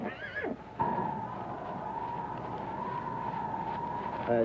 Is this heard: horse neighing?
yes